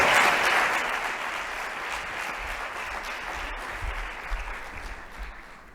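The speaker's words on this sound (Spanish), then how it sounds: "Pues un aplauso fuerte para todos y para todas." Sustained applause from an audience at an awards ceremony fills the space, a dense wash of clapping that starts loud and eases slightly while staying steady throughout.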